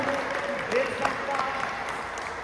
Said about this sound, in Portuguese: Aplauda ao Senhor, pois Ele é poderoso.